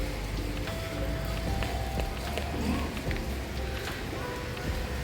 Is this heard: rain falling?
yes